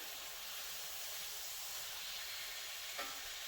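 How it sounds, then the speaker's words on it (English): Marinated skinless chicken for keto quesadillas sears in a pan, a steady broadband sizzle that holds evenly throughout with a faint tap near the end. "Make sure, get them nice and seared on all sides here."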